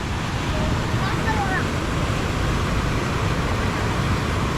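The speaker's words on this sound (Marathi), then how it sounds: "नदीला आलंय खूप पाणी" Swollen river running high after heavy May rain, its rushing water a steady, loud broadband roar that fills the whole stretch without a break, with no talk over it.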